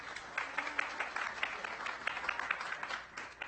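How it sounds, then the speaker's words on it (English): An audience at an evening talk applauds a guest, a steady spread of many hands clapping at moderate loudness for a few seconds with no voice over it. "Let's have a round of applause for him."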